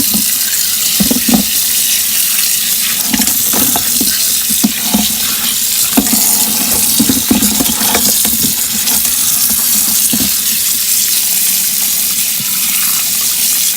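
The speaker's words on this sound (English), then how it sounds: "I'm gonna run some water over this" Tap water runs steadily into a kitchen sink over potatoes being rinsed for garlic parmesan mashed potatoes, a continuous close splashing stream with faint knocks of the potatoes shifting under the flow.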